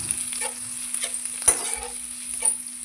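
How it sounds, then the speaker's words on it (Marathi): Garlic and green chili tempering sizzles in hot oil, a steady close frying hiss with occasional stirring scrapes and one sharp clink from a utensil against the pan. "मी आधी तेल गरम केलं आणि याच्यामध्ये लसूण मिरचीची फोडणी दिली"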